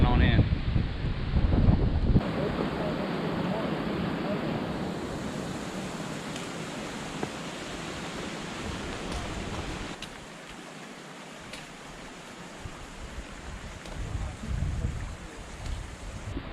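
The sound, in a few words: wind of an approaching squall in Linville Gorge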